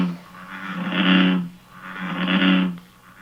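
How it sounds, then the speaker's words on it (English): A bullfrog gives two slow, deep, resonant croaking calls, each swelling and fading over about a second, close and steady with a short gap between them. "A bullfrog sounds like this."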